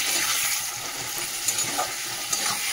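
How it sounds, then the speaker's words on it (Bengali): Spice paste fries in oil with potato and onion, giving a dense, close crackling sizzle with a few sharp scrapes as it is stirred. "সব একসাথে দিয়ে ভালো করে মশলাটা কষাবো"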